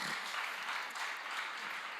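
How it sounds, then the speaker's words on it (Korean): A church congregation claps together in praise, a dense steady wash of applause lasting a couple of seconds at moderate distance, with no voices rising above it. "우리 주님께 영광의 박수 올려드리겠습니다"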